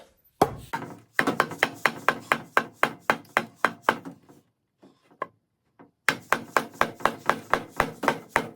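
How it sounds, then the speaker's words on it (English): Dead blow hammer tapping a shaft out of a 2002 Chevrolet Avalanche Z71 NPG246 transfer case: a steady run of sharp, close blows, a short pause with a few lighter taps, then another quick series of strikes. "using a dead blow hammer, we're going to tap that shaft out."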